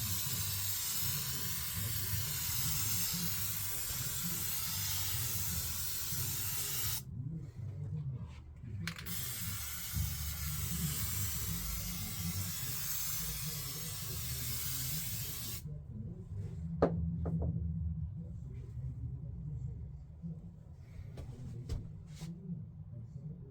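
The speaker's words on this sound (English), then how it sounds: "Let's spray this down." Spray glue hisses onto a seat's upholstery during a scratch-built seat job for a Cushman Truckster: two long, steady bursts of several seconds each with a short pause between, then quieter handling clicks and taps.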